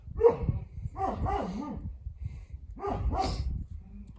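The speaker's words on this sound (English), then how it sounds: "I wish that dog would just shut up." A dog barks and yips in a few separate bursts outside, near and fairly loud, in a workspace where car subwoofers are being fitted into a single-cab Ford Ranger; no one speaks.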